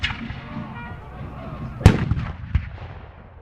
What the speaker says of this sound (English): And the British are returning fire in force